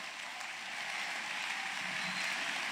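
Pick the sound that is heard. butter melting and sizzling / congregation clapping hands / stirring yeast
congregation clapping hands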